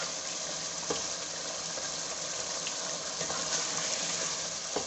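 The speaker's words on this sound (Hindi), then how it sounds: "अब हम इसको थोड़ा अच्छा सा भूनेंगे।" Chicken with spinach and garam masala sautés in a pan, giving a continuous moderate sizzle with a few faint stirring clinks and no talking.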